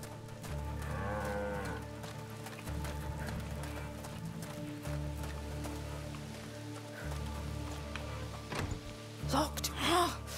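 A cow lows in A Plague Tale: Requiem, a drawn-out moo early on, then more bellowing near the end, over steady rain and a low droning game ambience.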